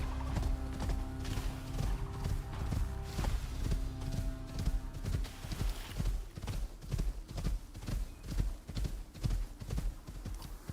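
In the video game Icarus, a ridden mount trots with steady, rhythmic hoof clip-clops, close and clear, with soft ambient noise beneath and no talking.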